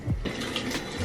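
Water from a tap splashes while foamed cleanser is rinsed off a face, a short, close, continuous wash of running and splashing water.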